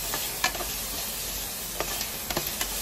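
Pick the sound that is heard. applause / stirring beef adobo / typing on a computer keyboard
stirring beef adobo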